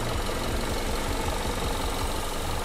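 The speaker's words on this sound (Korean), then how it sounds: "엔진 소리도 일정합니다" A Hyundai i40 engine idles steadily under the open hood, a continuous low rumble with an even, regular pulse, close and loud with no talking.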